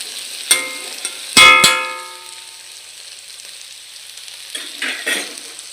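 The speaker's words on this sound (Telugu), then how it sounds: "ఈ వెజ్జీస్నన్నీ పచ్చివాసన పోయేంత వరకు జస్ట్ వేపండి" Mixed green, orange and white vegetables being lightly fried in a pan. A few loud clanks of a spatula against the metal come first, then a steady soft sizzle runs underneath, with brief stirring scrapes near the end.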